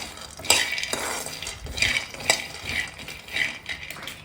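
Peanuts dry-roasting in a pan over a medium flame for a Rayalaseema peanut chutney, with repeated bursts of scraping and rattling as they are stirred, fairly close and clear, with no talking.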